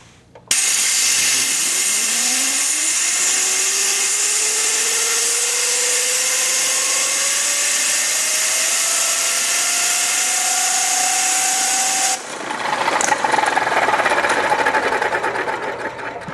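A small impulse turbine spun by compressed air from a 1/8-inch hose at 90 PSI whines loud and steady, its pitch climbing as it spins up, then cuts to a rougher, noisier rush near the end.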